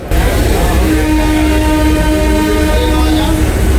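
Santragachi-Digha local train running at speed, a loud continuous roar and rattle of the carriage heard from inside, with a faint horn-like tone near the end.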